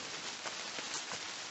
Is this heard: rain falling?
yes